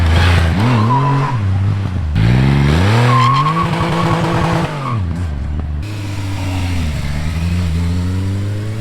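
Kawasaki Ninja H2 motorcycle ridden hard, its engine revving up and down in loud, rising and falling howls with quick shifts, sounding close by and continuous throughout.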